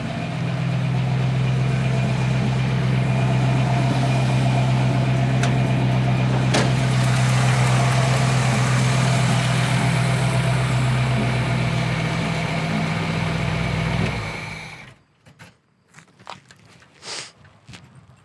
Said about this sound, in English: Just a little small block Chevy under the hood, but it's got headers.